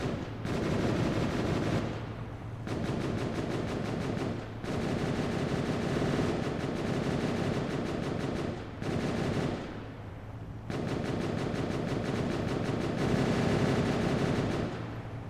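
Sustained bursts of automatic gunfire from bots in the video game Escape From Pertam during a sandstorm, loud, dense rattling volleys with short pauses between them and no talking.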